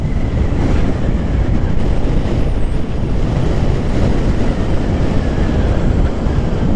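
A Harley-Davidson Street Bob 114 cruiser is ridden at speed, giving a loud, steady engine roar mixed with wind rush throughout, with no talk.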